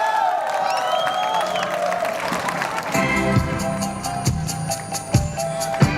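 A TV music show audience applauds and cheers to welcome a singer to the stage, with dense clapping and whoops over a bright musical backing that carries on throughout.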